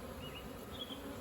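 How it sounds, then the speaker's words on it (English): Dense, continuous buzzing of a swarm of bees close by, a steady hum with faint higher whines drifting over it. "A lot of bees in there."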